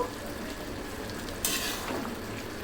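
Rice biryani is stirred in a pot over low heat, a soft sizzle under brief scraping of a spoon against the pot, with one sharper clatter midway.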